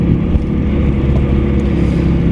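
A loud, steady car engine drone with a low rumbling whine, close up and continuous throughout.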